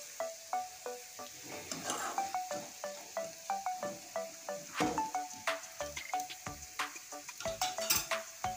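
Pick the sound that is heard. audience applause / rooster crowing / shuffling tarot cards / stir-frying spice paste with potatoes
stir-frying spice paste with potatoes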